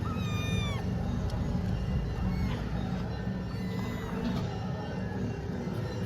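A kitten meows in a short run of high, rising cries near the start, then calls faintly a few more times over steady background noise indoors.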